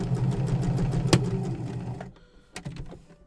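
A sewing machine runs a long basting stitch for about two seconds of rapid rhythmic stitching, then stops, followed by a couple of sharp clicks in the quieter stretch.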